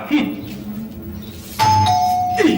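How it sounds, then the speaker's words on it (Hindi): A doorbell chimes with a clear, sustained tone, preceded by people talking and background noise. "बज गई घंटी"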